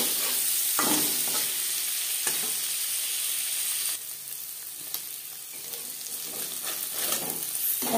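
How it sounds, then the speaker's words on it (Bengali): Paneer pieces shallow-frying in a pan for a paneer and broccoli dish, a steady close sizzle with occasional stirring scrapes and spatula clicks, no talking. "পনির হালকা করে ভেজে নেব"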